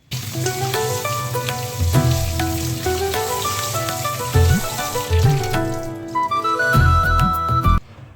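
Mushrooms are washed under a running kitchen tap, with a continuous splashing water stream and intermittent clatter close by.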